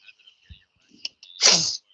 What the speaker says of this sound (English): I feel a sneeze coming in.